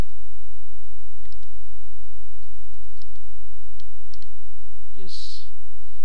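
Keys tapped on a computer keyboard while entering Danish letters during an Xubuntu 9.10 installation: sparse, soft clicks scattered over a steady low hum, with a brief sharper sound near the end.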